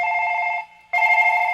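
A telephone rings after a number is dialled: two loud electronic trilling rings separated by a brief pause, close and clear, with no one speaking.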